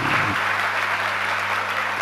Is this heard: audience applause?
yes